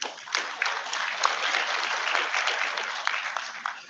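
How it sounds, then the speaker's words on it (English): A conference audience applauds the panelists at a technology and society forum, a dense, sustained round of clapping from many hands that holds steady for several seconds, with faint voices mixed in. "another round of applause to all the panelists"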